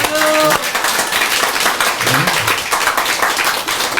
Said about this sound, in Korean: 박수를 칠 때 손바닥에 불이 나도록 치는 거예요